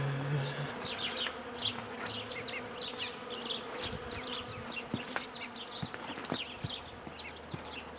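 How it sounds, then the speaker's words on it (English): A large swarm of bees buzzing around a big nest hidden somewhere outdoors, a dense, continuous drone of many insects with individual bees flitting close by, steady and moderately loud with occasional sharper passes. "I've never seen this many bees before"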